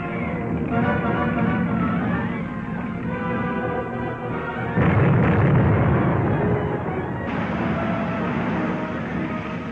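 Booming 3-inch artillery shells fire and explode as a film sound effect in a 1945 serial, a sustained loud rumbling roar with a heavier burst midway, continuous and alone.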